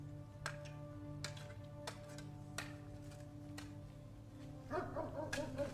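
In the video game Blue Prince, dogs in a kennel give several sharp, fairly faint barks at irregular intervals over a low steady hum and game music, with a brief burst of chatter-like sound near the end.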